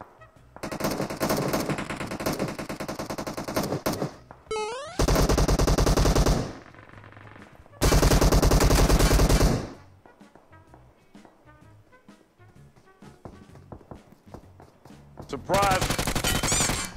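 PUBG gunfire, including AKM and UMP fire, comes in loud bursts of rapid automatic shots separated by quieter stretches of scattered shots and game sounds.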